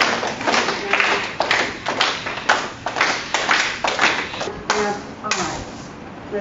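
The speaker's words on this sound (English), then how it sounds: "I want you to clap your hands." Hands clap in a loose, steady rhythm, sharp slaps repeating about twice a second, close and fairly crisp.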